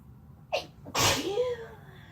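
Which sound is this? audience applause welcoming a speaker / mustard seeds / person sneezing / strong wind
person sneezing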